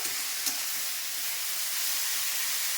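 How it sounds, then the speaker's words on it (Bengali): Tengra fish with turmeric fries in a pan, giving a steady, faint hiss and sizzle with a brief clink of stirring near the start. "হলুদ দিচ্ছি। এখন নেড়ে ছেড়ে ঢেকে দিব।"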